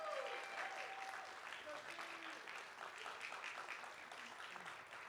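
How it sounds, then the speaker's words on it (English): Applause for young scholars at a school board meeting, a steady wash of clapping from a crowd that stays fairly even throughout, with voices talking underneath. "Let's give them a round of applause."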